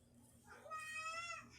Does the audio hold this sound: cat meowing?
yes